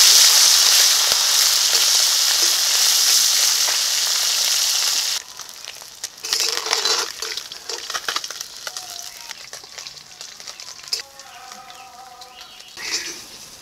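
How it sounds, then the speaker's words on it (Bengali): Pieces of catla fish fry in hot oil, first as a loud, dense hiss for about five seconds, then as quieter, uneven crackling and spattering with faint clatter, close by and without talk. "কাতলে মাছগুলো এখন ভেজে নেব।"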